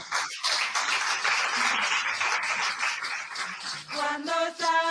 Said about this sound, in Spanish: Un aplauso para Marian.